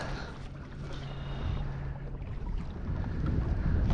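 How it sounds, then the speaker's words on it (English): A motorized Advanced Angler 120 (Big Fish 120) kayak runs on the Rio Grande with a low, steady motor hum under wind buffeting and water wash that build louder toward the end. "Now we're on the motorized kayak."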